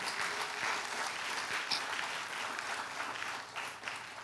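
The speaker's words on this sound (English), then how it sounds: "Come on, you can give the Lord a clap offering for that." A church congregation claps during a sermon, a continuous, moderately distant wash of many hands that stays even throughout, with a few sharper claps standing out.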